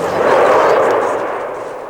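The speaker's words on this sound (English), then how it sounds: "Early enough to record the explosions, close enough to feel the heat from the flames." A loud, broad roaring rumble from explosions at the Buncefield oil depot fire, a single sustained blast that slowly fades, with no speech.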